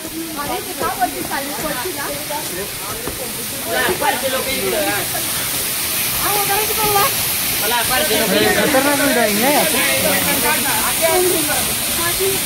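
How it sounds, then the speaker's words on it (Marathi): Steady rushing water from a waterfall at Raigad Fort, Maharashtra roars throughout, a constant hiss under people talking nearby. "एकदम सुंदर धबधबा या."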